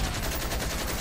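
Rapid turret gunfire in the SpecOps Resistance video game, a steady loud stream of evenly spaced shots filling the whole second with no talk.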